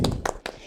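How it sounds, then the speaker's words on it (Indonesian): Children clapping their hands during a Sunday school worship song in Cirebon: three quick, sharp claps in an uneven rhythm, close and fairly loud, with no talking over them. "Tepuk tangan Yesus."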